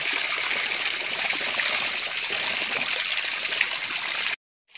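Overflowing water rushes steadily in a dense, continuous wash, close and loud, in rural Sorsogon, Bicol, before cutting off abruptly near the end.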